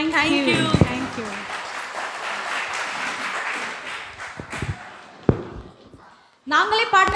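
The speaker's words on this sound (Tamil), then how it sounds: "நாங்களே பாடினதுக்கு அவ்வளோதானா கைத்தட்டல்" An audience at a carol-singing gathering in St. Pius Church, Mulund, gives a short round of applause after the carols, with brief scattered claps. The clapping fades into a few taps, and then a voice starts talking.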